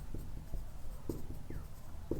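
Chalk or marker scratches across a classroom board as a chemistry teacher writes, making faint, short strokes and taps at an uneven pace, close and quiet with no talking over it.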